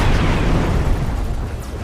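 Torpedoes launching from a ship in the Treasure Planet: Battle at Procyon naval space game, a dense continuous roaring blast that stays loud and broad for a couple of seconds before easing slightly.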